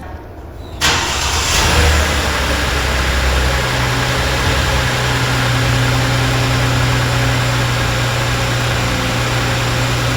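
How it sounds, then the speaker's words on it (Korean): A 2018 Genesis G80's engine cranks and catches, briefly revving before settling into a steady, low idle that continues nearby for the rest of the clip. "이제 오늘도 바로 리얼하게 시동 소리부터 들어보고 시작하도록 하겠습니다"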